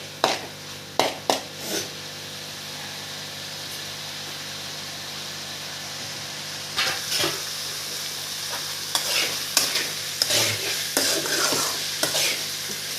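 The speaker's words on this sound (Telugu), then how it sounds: "ఫస్ట్ అయితే కైమాని ఇలా కొంచెం ఆయిల్లో వేసుకుందాము. హై ఫ్లేమ్లో పెట్టేసి వేపేసేయండి." Minced meat keema frying in a little oil over high flame, a steady close sizzle with sharp scrapes and clinks of stirring at the start, then busier spoon-and-pan stirring later; no talk.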